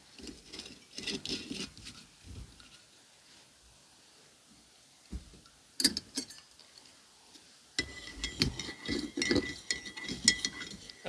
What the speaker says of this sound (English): I'll try to stir up my milkshake without totally ruining the texture of the shake.